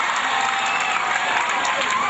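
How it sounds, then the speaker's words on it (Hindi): An audience at a school's annual sports event claps in a dense, steady burst of applause that fills the space evenly from start to finish. "आप लोगों से गुजारिश है एक बार जोरदार ताली बजाइए"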